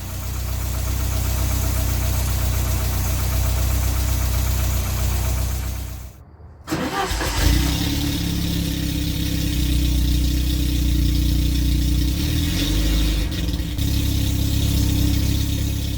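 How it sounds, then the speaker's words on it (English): An Alfa Romeo 33 IE 8V engine, after head gasket repairs, cranks briefly after a short pause, catches, and settles into a steady, loud idle with a low rhythmic rumble. "This is the engine startup a few days after the engine was initially started."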